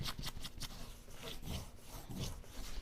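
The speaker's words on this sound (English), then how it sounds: "Now, just want to sort of rub that edge a little bit." Rough rubbing strokes scrape along the edge of burlap fall decor, repeated in quick rhythmic passes, close and fairly loud with nothing else over them.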